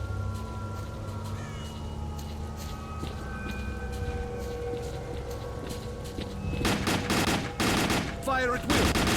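Gunfire erupting in the shooter game S.T.A.L.K.E.R.: Call of Pripyat, dense rapid bursts of shots breaking out over a humming background ambience after several quieter seconds.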